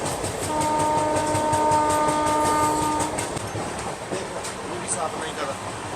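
The Bandra Bhuj AC Superfast Express runs along the track with loud rolling wheel noise, clacking rail joints and a sustained horn blast near the start, heard close and continuous.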